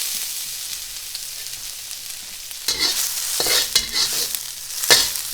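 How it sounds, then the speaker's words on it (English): Sesame oil, garlic and ginger hit a hot wok and sizzle in a steady hiss that swells as they are stirred, close up, with scraping bursts and no talk. "Let's get in this hot wok some sesame oil and garlic and ginger."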